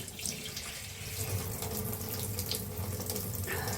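Tap water runs steadily into a sink as hands are rinsed after washing-up liquid, a continuous close splashing hiss with small fluctuations throughout.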